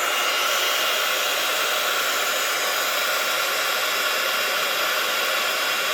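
A heat tool blows nonstop while melting embossing powder into a plastic-like coating, giving a loud, even, hissing whoosh with no change in pitch, no voices.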